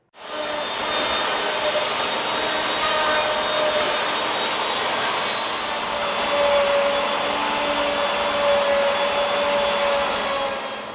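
A wood lathe spins a wooden bowl blank with a steady, loud whirring hum and faint whining tones, running continuously throughout without talk.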